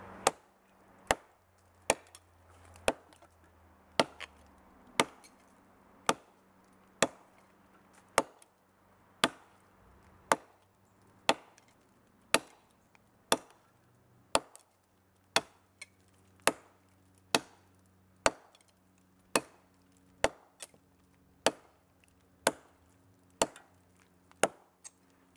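A BCMW Niolox Chopper 64.5rc chopping dead fallen eucalyptus wood outdoors, about two dozen sharp, close chopping impacts in a steady, even rhythm with no talking.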